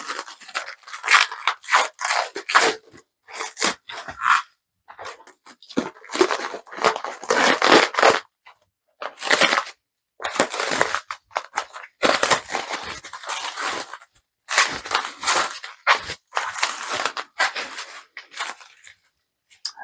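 Plastic wrap and bubble wrap are pulled off packaged uranium glass in bursts of close, crinkly tearing and crunching, broken by short pauses, with no talking.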